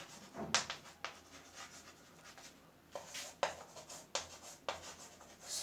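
A pen scratches across paper while drawing a supply curve graph, in several separate short strokes with pauses between them, close and fairly quiet, with no talking.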